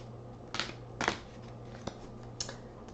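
Wildwood Tarot cards shuffled off to one side: a few soft, brief papery riffles and taps come in short separate bursts over a quiet, faint background.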